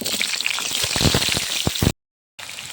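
Dense crackling sizzle of potatoes frying in hot oil, steady and close, with sharp pops, then cutting to a brief silence before the sizzle resumes.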